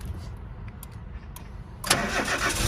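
A car engine cranks and catches via an aftermarket push start button after a quiet interior hum, firing up abruptly and settling into a steady mid-pitched idle close by.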